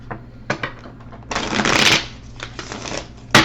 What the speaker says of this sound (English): let's get a couple more shuffles in here